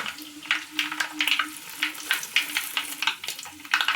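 Fenugreek seeds dropped into hot oil with popping mustard seeds for a gooseberry pickle, giving a close, continuous crackling sizzle dotted with sharp pops and a faint hum underneath, no voices.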